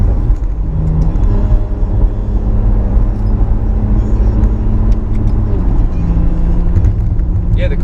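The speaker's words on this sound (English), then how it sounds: "You can really hear the valves open up and the sound just gets super loud." A car's exhaust swells in volume as its exhaust valves open, a steady, loud, close-up drone of engine and exhaust rumble carrying through the whole stretch with a rising hum.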